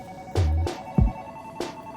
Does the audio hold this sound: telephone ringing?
yes